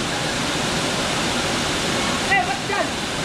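Waterfall at a natural falls, a loud continuous broadband rush filling the whole clip, with brief voices faintly under it near the end.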